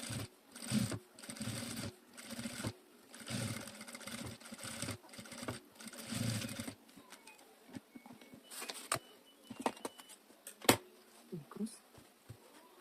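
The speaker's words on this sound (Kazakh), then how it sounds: "Енді тігеміз." Sewing machine stitching a traditional Kazakh felt hat, running in short bursts of rapid stitching with brief pauses, fairly close, followed by quieter handling clicks and taps.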